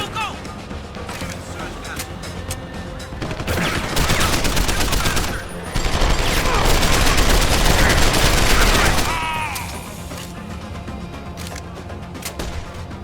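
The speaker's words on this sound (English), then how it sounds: "Someone's shooting!" Gunfire in the stealth action game Deus Ex: Human Revolution, with rapid bursts and sharp shots building into sustained, loud fusillades mid-clip before easing back to scattered shots, with shouting voices mixed in.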